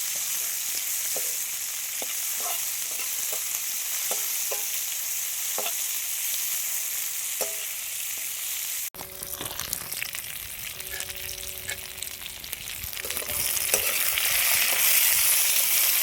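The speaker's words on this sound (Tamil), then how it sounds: "வெங்காயம் நல்ல ப்ரௌனிஷ் கலரில் மாறுற வரைக்கும் நல்லா வதக்கிடலாம்" Onions frying in a pan over a wood-fired stove until golden brown, a loud continuous sizzle with light ticking stirs, turning harsher and more crackling partway through, no talking.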